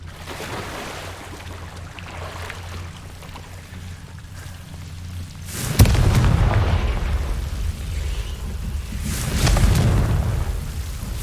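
A Confringo blasting spell in Hogwarts Legacy sets off a loud, close explosion, a sharp burst followed by a rumbling roar, with a second booming blast a few seconds later over a constant low game ambience.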